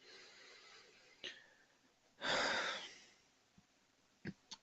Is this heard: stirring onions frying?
no